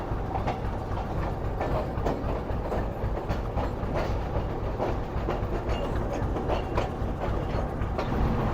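A train runs steadily on rails through heavy fog on the approach to Habibkot Junction in winter, with a continuous close rumble and faint rhythmic clatter of wheels throughout.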